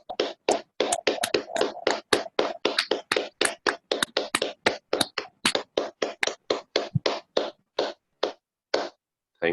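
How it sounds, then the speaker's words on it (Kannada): Meditation group clapping together after a guided session, a series of sharp, close hand claps that start fast and dense, then thin into slower, more spaced claps before trailing off. "ಜೋರಾಗಿ ಚಪ್ಪಾಳೆ ಕೊಡಿ."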